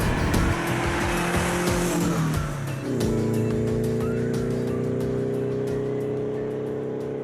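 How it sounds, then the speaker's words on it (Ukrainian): An Audi R8 engine roars loudly and steadily at close range, with its pitch dipping and then climbing again midway, while short tire squeals and sharp clicks sit over the engine drone. "Audi R8."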